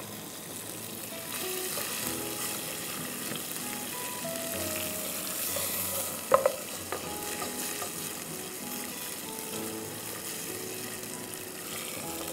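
Ginger beef karahi sizzles and fries steadily in a pan, a continuous moderate crackle with a couple of sharp clinks partway through, no voices.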